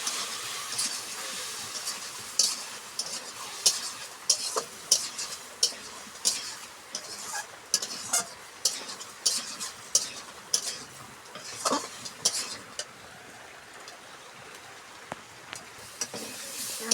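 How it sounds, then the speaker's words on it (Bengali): Mutton kosha with spices and potato being stirred and sautéed in a pan, with rhythmic spoon scrapes roughly every half second over a soft sizzle, close and moderately loud. "এখন এখন একটা কষাতে হবে, এখানে কষিয়ে তারপর জল ঢেলে দেবো।"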